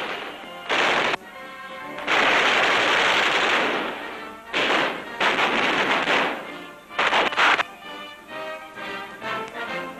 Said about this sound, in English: Manning a .50 caliber gun, he will soon be in action against the enemy.